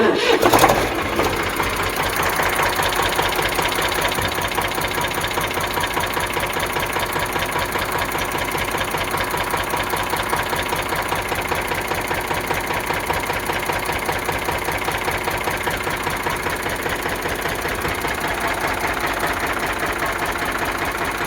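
A vehicle engine idles up close with a steady, rapid chugging rhythm that stays loud and even throughout, after a brief louder burst at the start.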